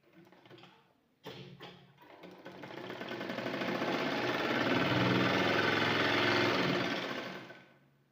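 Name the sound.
sewing machine stitching cloth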